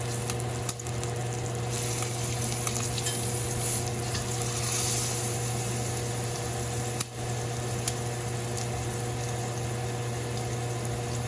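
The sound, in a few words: pork loin searing in pan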